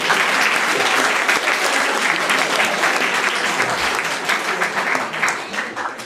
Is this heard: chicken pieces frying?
no